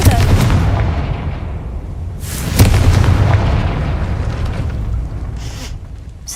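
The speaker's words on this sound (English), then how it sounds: "Confringo!" A Confringo fire spell blasts in Hogwarts Legacy, a loud, dense explosive boom with a sharp burst around the middle that rumbles on and fades slowly, with no other sounds alongside it.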